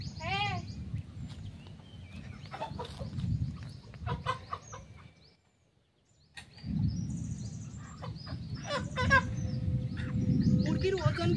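A live chicken clucks in repeated bursts at home, close and moderately loud, with background voices and household noise, pausing briefly midway before the clucking resumes.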